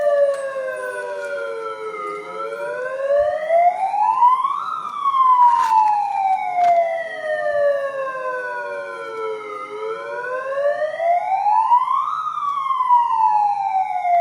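Electronic alarm siren from a bank building at night, a loud wailing tone that sweeps slowly up and down in long repeating cycles, steady and continuous with no voices.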